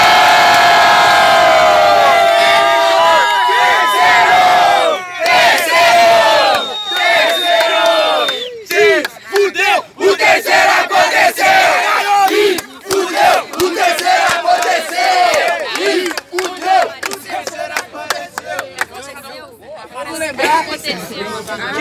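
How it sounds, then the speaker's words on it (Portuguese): A large crowd at a freestyle rap battle in Foz do Iguaçu, Brazil, cheers and shouts loudly and continuously, voices overlapping in a roaring, chanting din close by. "muito barulho para as rimas do Stenio"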